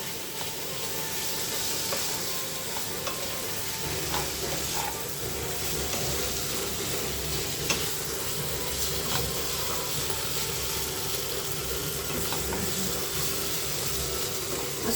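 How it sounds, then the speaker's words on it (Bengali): Mustard paste being stirred in a frying pan for a Bengali parshe fish curry with potato, bori and eggplant: a steady, fairly loud sizzling hiss with faint scraping as the paste is moved around, no voice. "আমি আবারও এক মিনিট মতো নাড়াচাড়া করে নেব"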